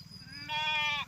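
A single sheep from a grazing flock gives one clear, drawn-out bleat lasting about half a second, close by, over a low background rumble.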